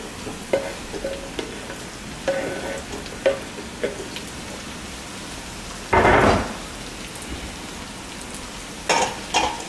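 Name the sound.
golden potatoes frying in a pan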